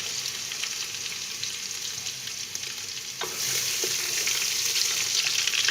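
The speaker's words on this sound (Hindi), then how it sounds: "अब 1 चम्मच मैं लहसुन अदरक का पेस्ट डालूंगी।" Garlic ginger paste sizzles in a hot pan while cooking bottle gourd sabzi, a steady close frying hiss that grows louder partway through, with a few light stirring knocks.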